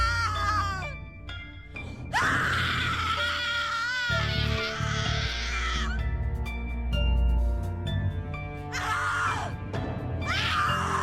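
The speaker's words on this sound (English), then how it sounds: "Your scream is like a poem without words" Woman's screams in the horror game The Cat Lady, loud shrill wails in long sustained bursts separated by pauses, with dark droning music underneath.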